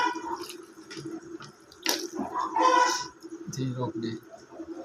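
Beef trotters are rinsed under running tap water in a kitchen sink, a steady splashing flow with bursts of louder gushing, while a person talks over it.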